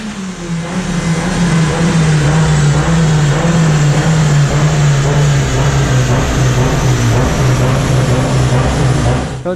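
Tuned Hyundai G4GF Beta 2.0 engine screaming at high boost on a dyno, a loud, steady, sustained roar with its pitch shifting slightly as it holds load, and no talking over it.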